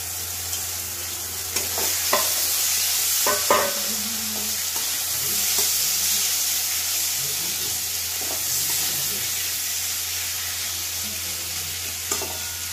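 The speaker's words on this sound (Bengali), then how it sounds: "এবার আমি চিংড়ি মাছগুলো দিয়ে দিচ্ছি।" Shrimp fry in a pan with softened tomatoes, giving off a constant close sizzle and hiss while a utensil scrapes and stirs in intermittent knocks.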